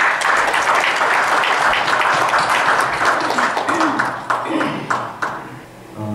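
Applause from an audience at a Korean platform launch ceremony, a sustained dense wash of clapping that thins and tapers toward the end, with faint talk underneath.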